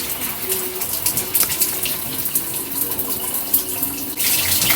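Water runs steadily while waist-length twisted hair is washed and the scalp and ends are scrubbed, a continuous close gushing stream with faint splashes and no talking.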